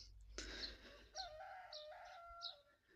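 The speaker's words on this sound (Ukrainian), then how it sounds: "Воробці ще щебечуть і півні співають." A faint rooster crows once in the distance, a long drawn-out call, while sparrows chirp softly around it in a quiet, foggy morning outdoors.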